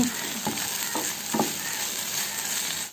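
Okra and egg fry in a pan with a bright, steady sizzling hiss, punctuated by a few quick stirring scrapes, close and fairly loud, with no one speaking.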